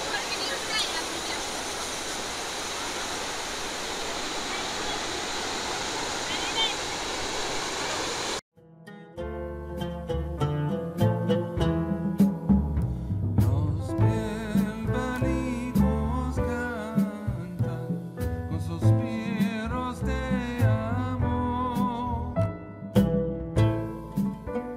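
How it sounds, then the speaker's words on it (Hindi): The Kundal Shahi waterfall in Neelam Valley, Azad Kashmir, gives a steady, loud roar of rushing water and spray for about eight seconds before it cuts abruptly to music. "इस वक्त हम वाटरफॉल के बिल्कुल सामने आ गए हैं।"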